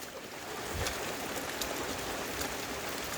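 Rushing water of a flooded river, a broad, steady roar of fast-moving current close by, continuous and without voices.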